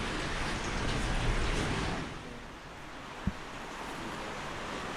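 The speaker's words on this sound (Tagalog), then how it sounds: "Ulan niya" Steady rain falling outdoors at a garden construction site, a broad hissing wash that swells then eases slightly, with one brief knock partway through.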